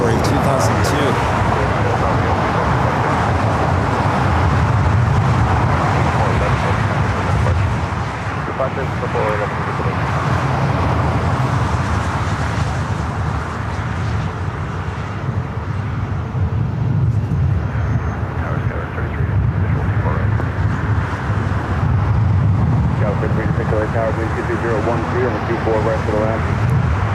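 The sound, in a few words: Boeing 757-300 airliner lining up at LAX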